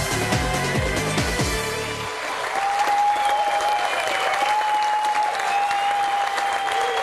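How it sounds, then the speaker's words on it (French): Studio audience of a French television game show cheering and applauding as three contestants leave, starting under the tail of a musical sting, then sustained dense clapping with a sustained tone running through, moderately loud throughout. "ce sont des acclamations qui accompagnent nos 3 candidats quittant le jeu"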